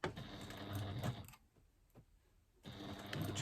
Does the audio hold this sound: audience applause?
no